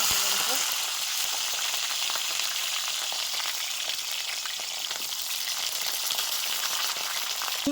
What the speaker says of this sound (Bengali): তার জন্য সিমটা ভাজবো।